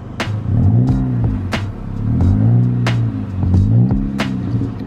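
Modded 10th-generation Honda Civic Si with the naturally aspirated 2-liter engine and a muffler delete, revved repeatedly in close, loud bursts that rise and fall in a steady rhythm, with sharp pops between revs.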